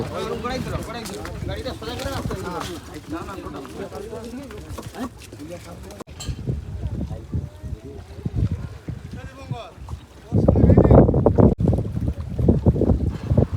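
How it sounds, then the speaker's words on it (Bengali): Wind buffets the microphone during a boat ride near Mousuni Island, water sloshing beneath, while a person talks over it; gusts grow louder toward the end. "নৌকাতে বসে পড়েছি আর চারিদিকের ফুরফুরে হাওয়া"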